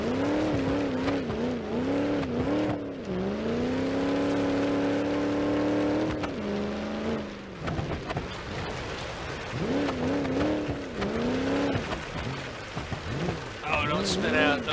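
A supercharged Skull Basher with no brakes in BeamNG.drive, its engine rising and falling through repeated revs and gear changes, loud and close, with some tire noise and a voice talking underneath.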